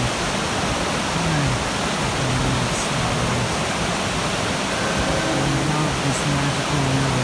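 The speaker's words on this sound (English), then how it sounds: "This magical river." A river rushes past rocks below a steep cliff, giving a steady, full, unbroken roar of flowing water that stays even throughout, with faint higher sounds drifting over it.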